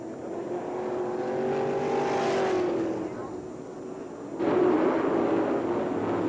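Sprint race cars at Manzanita Speedway in 1990 roar around the dirt track at the Western World Championship, their engines rising and falling as they pass, with a sharp surge of acceleration near the end under race commentary.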